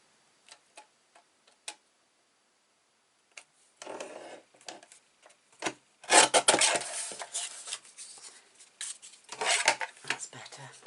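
A 3 by 3 inch paper square for a mini album is cut corner to corner: a few isolated soft clicks, a pause, then a run of dry rasping cutting strokes that grow louder and denser.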